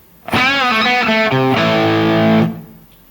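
A distorted electric guitar plays a short phrase of a riff, with bending notes leading into a held ringing chord that cuts off cleanly, loud and alone.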